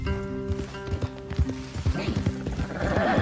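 Hooves clip-clop unevenly over music and a steady ambient bed in the video game Red Dead Redemption 2, with a voice speaking over them and a faint horse snort near the end.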